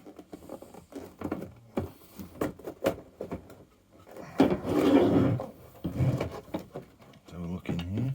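Back screws being worked loose on an old General Electric G817 radio, heard as close scraping, rubbing and wooden knocking of a screwdriver and cabinet, with a louder rasping stretch midway and someone talking over much of it.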